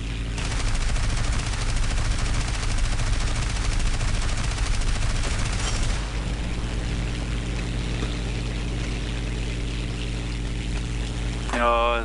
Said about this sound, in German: Ich schieße nach allen Rohren zurück